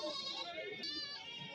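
Goat kids bleating at a busy goat market, a couple of near, wavering high cries with market chatter in the background.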